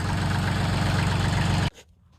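Tractor engine idling close by with a steady, throbbing low rumble and regular pulsing beat, then abruptly cutting off into near silence.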